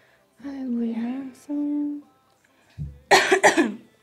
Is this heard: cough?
yes